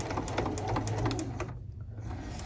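A sewing machine stitches binding onto a quilted table runner in a fast, steady mechanical whir, close and loud, briefly easing off near the end.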